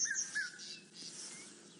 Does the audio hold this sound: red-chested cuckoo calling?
yes